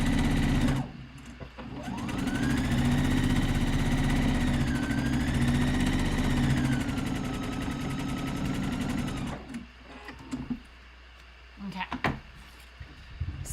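A sewing machine runs a long continuous burst as it stitches over the same seam a second time on lounge pants, with a steady mechanical whir and a rising and falling pitch, then stops, followed by a few faint clicks and handling noises.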